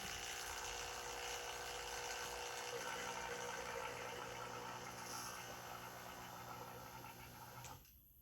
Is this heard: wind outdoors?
no